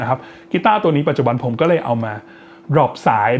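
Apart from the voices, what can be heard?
No everyday noise stands out behind the speech.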